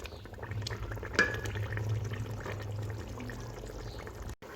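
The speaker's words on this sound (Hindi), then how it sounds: "ये देखिए कितने ज़बरदस्त से ये जो टमाटर हैं हमारे भून रहे हैं।" Tomatoes fry in a pan for chicken achar gosht, giving a steady close sizzle and bubbling over a low hum, with one brief sharp spatter.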